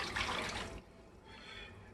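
Water from a 32 ounce cup splashes into a cooking pan for chicken and rice, a bright rushing pour that cuts off partway, then a softer trickle and settling after it.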